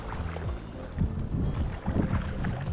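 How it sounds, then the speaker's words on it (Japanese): Wind rushes across an open boat out on the sea during an ajing (horse mackerel light-tackle) fishing trip, giving a constant low buffeting roar with gusts that swell and fade, close to the microphone and with no voices. "ちょっと左から右にちょっと風が吹いてて少しやりづらいですね"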